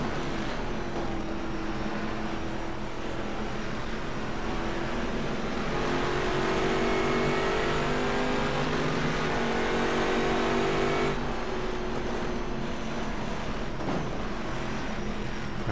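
GT2 and GT3 race cars battling on the first lap at Silverstone in rFactor 2, a steady loud engine drone with rising and falling revs, gear changes and cars sweeping close by, without talk.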